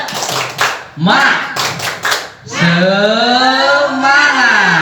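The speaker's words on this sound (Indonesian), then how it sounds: "Tepuk semangat." A group of primary school teachers claps a short rhythmic spirit chant, tepuk semangat, in quick close bursts, then a voice sings or calls out over the end.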